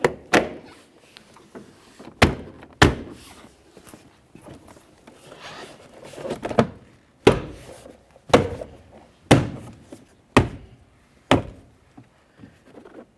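Plastic interior door panel of a 2008-2017 Buick Enclave being pressed into position, giving a series of sharp, close clicks and thumps spaced irregularly, about nine snaps in all.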